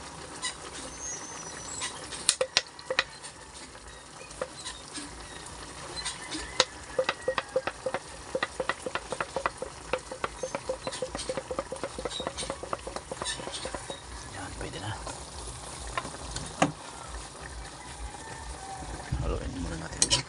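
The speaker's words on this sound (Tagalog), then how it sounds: "Haluin muna natin." Adobo with saba bananas and soy sauce stirred in a pan, giving a steady wet sizzle with a scattered run of scraping, clicking utensil taps against the pan throughout.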